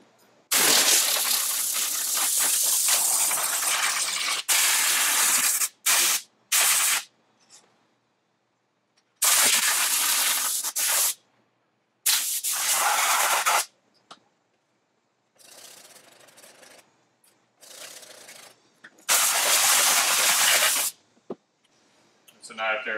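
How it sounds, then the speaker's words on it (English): Compressed air blasts across a car door panel to dry it after cleaning, coming in several loud hissing bursts of a few seconds each, separated by quiet gaps and softer short puffs. "we're going to wipe it down and blow dry with compressed air"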